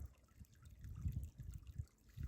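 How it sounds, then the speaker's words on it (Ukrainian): Two small Carpathian mountain streams meet near Hoverla, trickling and gurgling softly over stones in a faint, uneven burble. "тут наші струмочки зустрічаються"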